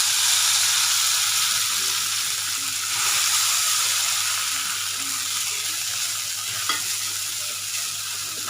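Soaked flattened rice (aval) frying in leftover ghee from roasting cashews and almonds, a steady, loud, close sizzle with occasional stirring scrapes, no talking.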